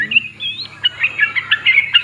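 A sooty-headed bulbul (trucukan) kept as a hand-raised pet sings at close range. It gives a clear, bright run of short warbling phrases and chirps in quick succession.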